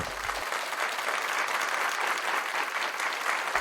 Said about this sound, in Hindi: रजिया के लिए जोरदार तालियां